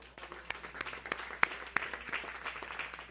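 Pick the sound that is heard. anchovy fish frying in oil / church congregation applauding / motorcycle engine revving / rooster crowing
church congregation applauding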